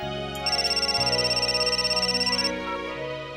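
A mobile phone ringtone plays in a home in a Hindi TV drama, a steady repeating electronic tone lasting about two seconds over a soft music bed.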